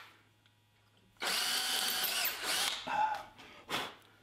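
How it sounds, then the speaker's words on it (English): A hand crank screwdriver drills holes for mounting a flintlock rifle's butt plate, a steady grinding whir running near and loud for a few seconds before breaking into short bursts as cranking slows. "I've got a hand crank screwdriver that I use quite often."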